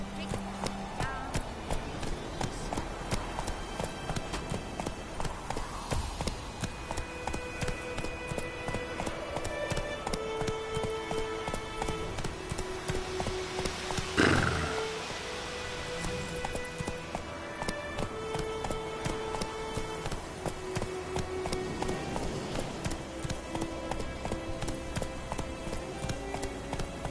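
Roach the horse galloping in The Witcher 3: a continuous rhythmic run of hoof clip-clops under steady game music, with speech over it and a sharp swell midway.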